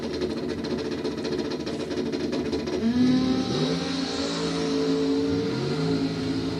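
Dragster engine from a bracket drag race, a steady loud mechanical drone that swells and shifts pitch partway through, with rising and falling engine tones near the end.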